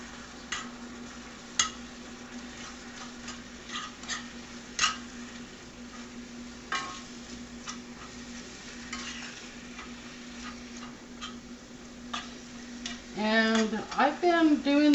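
A spoon stirring a beef and cheesy potato casserole mixture with onion powder in a bowl, giving repeated soft scraping strokes over a steady background hum, growing livelier toward the end.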